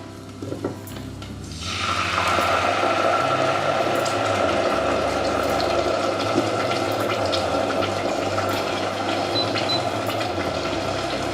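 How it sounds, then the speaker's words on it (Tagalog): Water running into a pot while cooking pasta, starting abruptly after a couple of soft clicks and then pouring in a steady, fairly loud continuous stream for the rest of the clip, no talk. "Kunting tubig."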